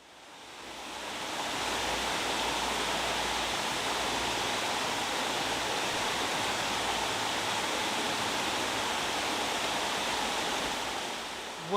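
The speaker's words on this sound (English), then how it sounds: "I do hope you can hear me above the sound of the running water." Steady broadband rush of the Mells River's running water in Somerset, near a remnant of the Dorset and Somerset Canal, close and constant for the whole stretch with no voice over it.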